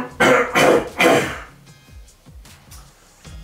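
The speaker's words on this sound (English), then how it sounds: "I can clear my throat so I don't sound really weird" Several loud, close throat clearings in quick succession, each a harsh rasping burst, followed by quieter breathy rustles and small handling knocks.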